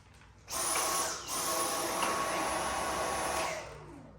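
A Dyson cordless vacuum cleaner starts up and runs with a steady, close whirring motor hum and a high whine, cutting briefly before resuming and running on.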